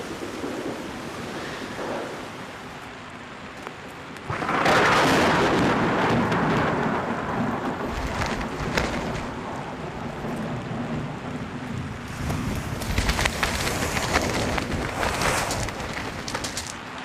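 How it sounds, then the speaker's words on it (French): Thunderstorm with wind in a French animated tale: a roaring, gusting storm that surges loudly about a quarter of the way in, then keeps blustering with another heavy burst near the end. "je n'ai jamais vu un orage pareil"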